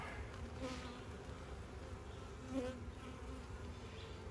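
Honey bees in an opened beehive during an inspection, a steady close buzzing drone with a few brief louder passes of individual bees, no talking.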